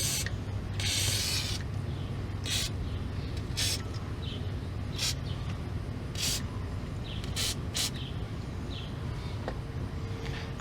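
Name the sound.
spraying brake rotor on Dodge Caravan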